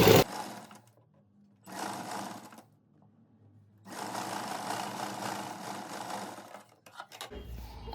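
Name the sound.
sewing machine stitching a blouse hook-eye strip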